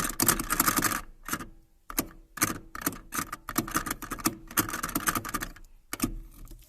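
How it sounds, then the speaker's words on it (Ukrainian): Plastic seat belt latch in an Opel Omega A 2.0 cabin rattling and clicking in rapid irregular bursts with short gaps, close and fairly loud, no talk. "Ось цей замочок, фіксатор ременя безпеки, власне, і видавав оцей звук."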